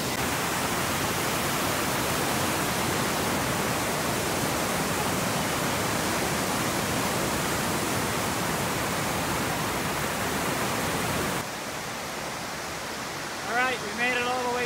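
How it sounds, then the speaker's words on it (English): Main waterfall at Plitvice Lakes in winter, a loud, steady broadband roar of falling water heard close from the stairs partway down, which cuts off abruptly near the end to a quieter scene with brief faint sounds. "This is halfway down the stairs to the main waterfall."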